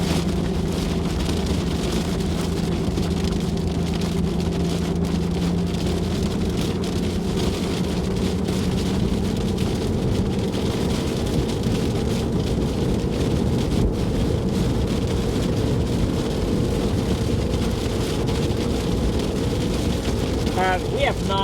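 Strong thunderstorm winds roar steadily with rain in Weatherford, a dense, continuous rumbling wash with low gusting throughout, with voices talking over it.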